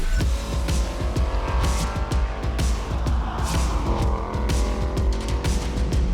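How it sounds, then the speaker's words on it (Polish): Alpine A110 race cars lapping the Silesia Ring circuit in Poland, a dense continuous engine roar with repeated bursts as cars pass close, loud throughout with no talk. "Siedmiu zawodników Alpina H110 rywalizuje po najnowocześniejszym torze wyścigowym w Polsce, Silesia Ring"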